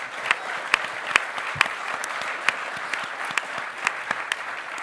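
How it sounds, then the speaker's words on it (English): Sustained applause from a press conference audience, a dense steady patter of many hands with a few sharper individual claps standing out, moderately near and continuing throughout. "Give them a big round of applause."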